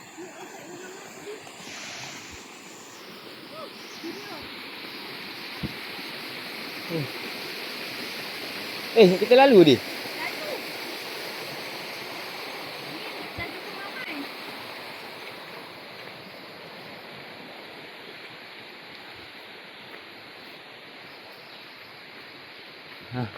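A small stream flows steadily in a continuous watery rush, with a few brief spoken words and a short louder splash near the middle.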